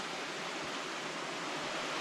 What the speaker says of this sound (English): Oh, wee waterfall.